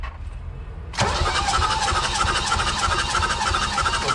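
A car engine cranks during a compression test on cylinder four with a suspected head gasket fault: a quiet lead-in, then a loud, rapid, rhythmic starter churn that continues steadily to the end, close up, with no voices.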